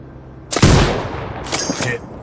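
Two loud, sharp gunshot blasts from a sniper rifle in the video game Sniper Ghost Warrior Contracts 2, the first about half a second in with a rolling tail, the second a second later, over a low hum.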